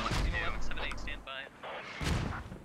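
Mortar rounds boom in the Operation: Arrowhead video game, two heavy blasts about two seconds apart with rumbling tails, overlaid by game sound effects.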